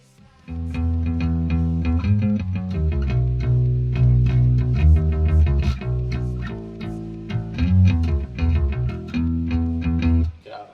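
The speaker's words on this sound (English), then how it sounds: "what I would do is I'd do a root note, the bottom note of the chord, then a run" An effected, chorus-tinged bass guitar plays sustained low root notes of each chord linked by quick melodic runs, steady and close, with no voices.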